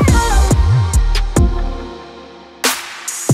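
A palm-muted electric guitar layered with effect sounds in a K-pop R&B arrangement: short damped plucks over sustained synth pads and deep bass hits, ending with a bright noisy swell.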